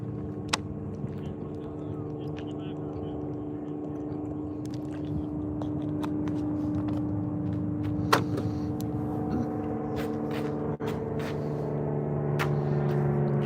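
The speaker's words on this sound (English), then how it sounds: "I still hear him revving." A drift car's engine drones steadily throughout at moderate level during Formula Drift warm-up in Utah, rising slightly toward the end, with faint talk and a few sharp knocks over it.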